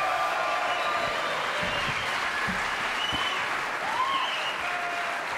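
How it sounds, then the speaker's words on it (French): Studio audience applause for Patrice Carmot on a French television show, a steady, even clapping that fills the whole stretch, with faint murmurs beneath. "applaudissements pour Patrice Carmot"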